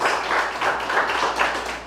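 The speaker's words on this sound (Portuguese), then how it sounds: "Vamos aplaudir e glorificar o Senhor" A church congregation applauding together: a dense wash of clapping from many hands, fairly loud and continuous, with no speech over it.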